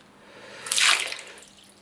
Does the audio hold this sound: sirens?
no